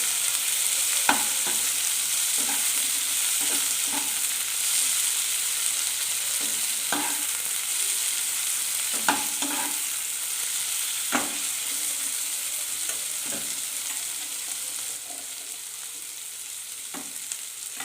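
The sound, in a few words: stirring chopped tomato into frying onion and chilli in a pan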